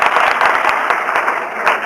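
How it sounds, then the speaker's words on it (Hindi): An audience at a Hindi spiritual talk claps together, a dense, loud patter of many hands with a few sharper individual claps standing out, continuous for a couple of seconds. "सुनने के पहले ताली बजा देते हैं।"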